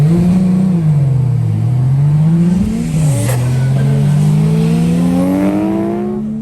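A powerful car engine roars up through rising revs as it pulls away, heard from outside, loud and close before fading slightly.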